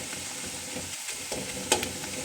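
Onions frying in oil until golden brown for a Chennai-style dum biryani, a steady close sizzle with faint stirring scrapes and one brief sharper clink near the end, no talking.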